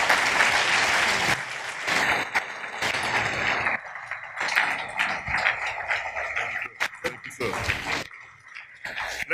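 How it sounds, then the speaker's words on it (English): Audience at an annual banking institute lecture applauds loudly and steadily after the talk, the clapping swelling and fading while voices speak over it near the end. "Let's keep the applause."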